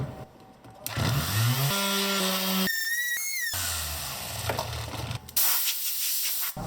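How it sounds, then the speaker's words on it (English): Wooden weave-pattern cutting board being sanded with a power tool, a loud whirring whine that starts, shifts pitch and cuts in and out, with abrupt gaps and harsh hissy grinding between the bursts. "let's start with sanding the board"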